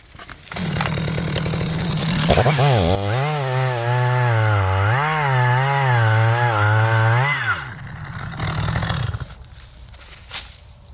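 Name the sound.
chainsaw cutting through a tree trunk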